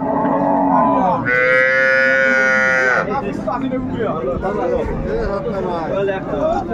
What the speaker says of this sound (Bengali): সুন্দর গাভী বাচ্চা আমরা দেখছিলাম